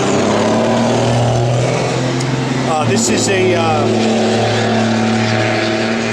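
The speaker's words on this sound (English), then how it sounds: "we got some old noisy truck rolling down the road" An old, noisy truck rolls along a road, a loud, steady low engine drone with rumbling harmonics throughout, passing close by while someone talks over it.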